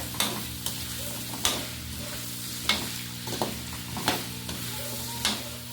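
Pork adobo with potatoes stirred in a pan, a spoon scraping and knocking in a steady rhythm about once a second over a constant low sizzle, close and clear, no talking.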